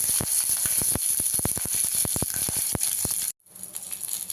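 Green chillies frying in hot oil in a pan, a close, steady sizzle with rapid crackling pops, cut off abruptly near the end and followed by a quieter low hiss.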